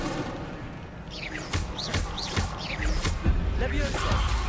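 A fire spell cast in Hogwarts Legacy: several sharp whooshing bursts of flame and impact hits over a busy game soundscape, arriving in quick succession and sounding close and loud.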